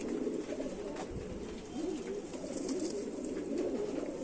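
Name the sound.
Indian Rampuri pigeons cooing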